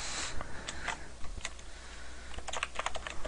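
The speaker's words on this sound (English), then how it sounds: "we're going to type in our article name" Computer keyboard typing in short irregular bursts of crisp key clicks, close and moderately loud, with brief pauses between keystrokes and no talking.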